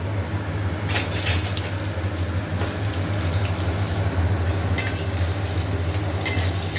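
Potatoes slide into a pan of hot oil after fish, with cumin seeds and bay leaves, and fry in a loud, steady sizzle with a few sharp clinks from utensils, no voices.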